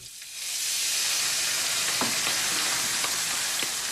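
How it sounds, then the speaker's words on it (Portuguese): A seasoned escalope of fresh foie gras sizzles in a frying pan, with a steady, loud broadband crackle and occasional sharp pops and spits throughout, no voices present. "na frigideira, vai dourando o escalope de um lado e de outro"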